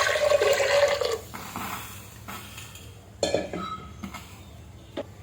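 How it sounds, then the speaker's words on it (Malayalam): Water splashes loudly into a metal pot for about a second as water for prawn biryani rice is poured, followed by scattered clinks and clatter of cookware. "വെള്ളം ഒഴിച്ചു കൊടുക്കും"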